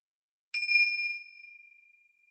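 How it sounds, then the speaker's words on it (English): One strike of mindfulness chimes in a classroom rings out clearly after a moment of silence, a bright pure tone that holds and then slowly fades away alone, with no voices. "we usually always call attention to it by ringing the chimes"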